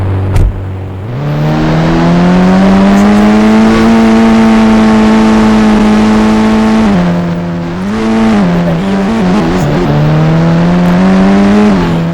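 A car engine in a roleplay video game revs up loudly and holds a strained, high-pitched whine, dips briefly, then climbs again in a continuous close drone with no talking.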